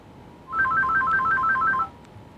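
A telephone rings for an incoming radio show caller, an electronic warbling ringtone that trills steadily for just over a second, loud and close, with no voices over it.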